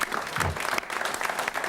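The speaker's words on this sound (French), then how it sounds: "Qu'on applaudit bien fort" A television studio audience applauds loudly and continuously in a dense burst, with no pause in the clapping.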